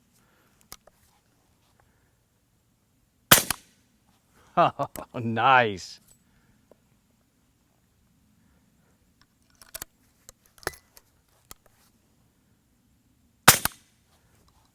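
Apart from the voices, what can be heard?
rifle shots through Rugged Suppressors Surge 762 suppressor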